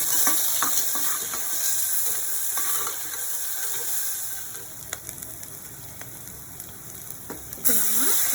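Ginger garlic paste sizzles in a pan of ghee for ghee rice, a steady close frying hiss with occasional stirring scrapes and clinks.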